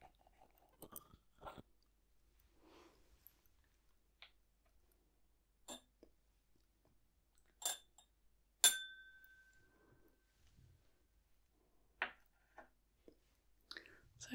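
A glass bottle being opened, its lid giving a sharp clink and a brief ringing tone among scattered quiet clicks and small handling taps, close and alone in a hushed room.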